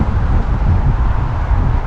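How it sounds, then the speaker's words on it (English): Strong wind gusting at around 50 miles per hour in open dusty country blasts the microphone in a loud, continuous low roar that never lets up. "it's so friggin' windy"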